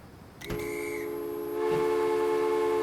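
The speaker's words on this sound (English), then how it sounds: "And a whistle. Not a whistle from a guard's whistle." A steam train whistle sounds in the Transport Fever 2 railway game, a sustained multi-tone blast that begins abruptly, holds steadily and swells louder partway through, close and alone without voices.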